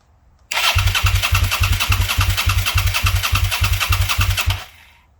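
A Suzuki SV650 motorcycle fired up with a keyless switch, its engine catching at once and settling into a loud, steady, close-up idle of even low pulses before cutting off.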